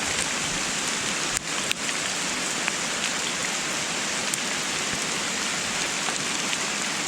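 Pea-sized hail with some bigger chunks falls steadily on a mountainside, a dense, even hiss of impacts close around, with a couple of sharper knocks standing out early on.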